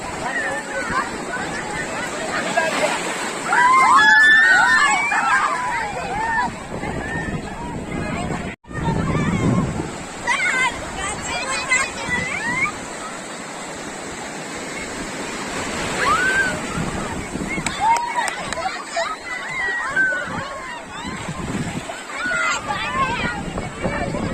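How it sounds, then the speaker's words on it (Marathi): Sea waves break and surge loudly on the shore at Alibag, a continuous roar of surf with gusts of wind, while children and adults shout and talk over it throughout. "लाट येऊ द्या, आली मोठी बघा,"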